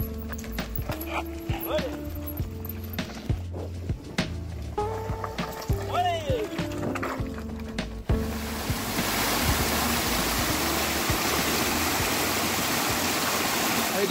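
A mountain stream runs over rocks in the Alpe d'Huez area, its steady broadband rush swelling loud and close in the second half after a stretch with talking and clattering over it.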